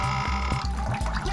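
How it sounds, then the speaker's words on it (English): Water pours steadily into a veronica handwashing bucket, a close, continuous splashing gurgle with a faint rhythmic low pulsing throughout. "I'm going to show you how to pour in water for you to see."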